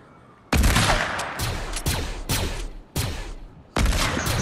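Rapid bursts of automatic gunfire in the video game Fortnite, several loud, close volleys separated by brief pauses, with no talking.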